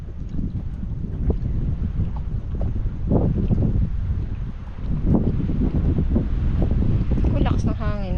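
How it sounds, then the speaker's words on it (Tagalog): Strong wind buffets the microphone in a continuous low roar while people fish from a boat on open water with nets, with faint splashes and a brief high whistle near the end. "Lakas ng hangin."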